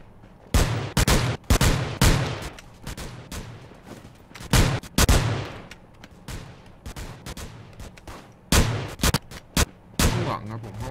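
Gunfire in the shooter game Rules of Survival, played in first-person mode: sharp, loud shots come in irregular clusters and quick bursts, separated by brief lulls with faint background noise.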